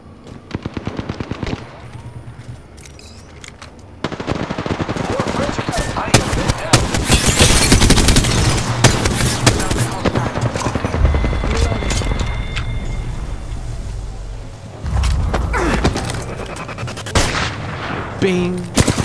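Dense bursts of automatic gunfire and heavy booms in a shooter video game, loud and sustained, with brief pauses between volleys and a voice talking over part of it.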